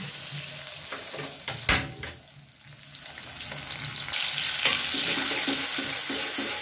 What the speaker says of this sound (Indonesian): Kita goreng bumbunya